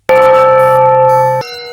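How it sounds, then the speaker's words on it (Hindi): A temple bell rings once, loud and close, its long resonant metallic tone sustaining with rich overtones before a brighter second strike cuts in, no voices present. "मंदिर की घंटी की आवाज पूरे गांव में गूंज रही थी।"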